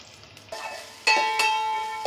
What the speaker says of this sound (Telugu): ముందుగా ఆవాలు వేసుకోవాలి, ఎర్రగడ్డలు వేసుకోవాలి.